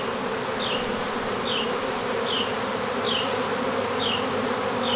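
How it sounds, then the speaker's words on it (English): Agitated honey bees swarm during a honey harvest, producing a dense, loud, continuous buzzing with individual bees zipping past close by at regular intervals. No one speaks. "there's a lot more buzzing now because there's a lot more bees in the air that are upset"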